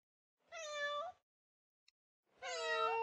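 Two clear, close meows from a cat in a video game, separated by a short pause, with a tiny click between them and silence around them.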